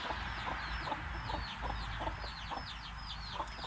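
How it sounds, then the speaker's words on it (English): Chickens cluck in a steady series of short calls, with buff hens among the flock in a backyard coop setting, fairly close and continuous with no talking. "Because the chicken keeps getting in, Jim's going to make it so that the chicken"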